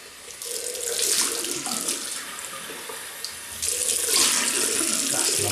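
Tap water runs steadily from a faucet into a sink while someone rinses off after a wet shave. The rush of water is loud and close, swelling briefly partway through, and no one speaks.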